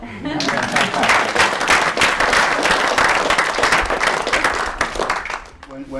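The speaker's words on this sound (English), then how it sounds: "give yourselves a round of applause" Audience applause at an academy rhetoric program gathering, dense and steady clapping filling the room for several seconds before tapering off near the end.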